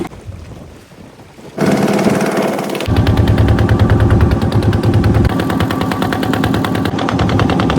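On a river crossing to Mousuni Island, a small boat ferry's engine chugs with a fast, rapid thumping. It stays loud and steady under buffeting wind noise.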